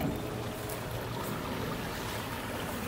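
Pond water spilling over a small garden waterfall in a pond water collection system: a steady, soft rushing and splashing that continues evenly throughout.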